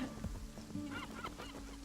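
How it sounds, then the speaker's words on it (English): Honking, squawking seagull calls from the video game Kingdom Two Crowns repeat in a short burst of several cries, faint and set against a low background hum. "Leave some bread for the seagulls as well."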